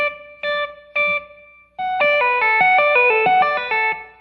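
Clean electric guitar notes: three short separate plucks, then a smooth run of connected legato notes rising and falling, clear and fairly loud.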